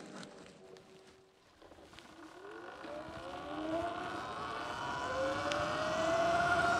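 A Surron electric dirt bike motor whines on a gravel trail, its pitch rising steadily as the bike speeds up, under a constant rush of wind and crunching tyre noise.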